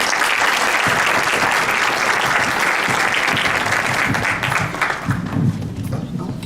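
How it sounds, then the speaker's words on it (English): An audience at a Chicago mayoral candidate interview applauds, a full, sustained round of clapping that thins slightly toward the end as a voice begins beneath it. "Thank you, Mr. Vallas, and Ramseen, would you please give them another round of applause?"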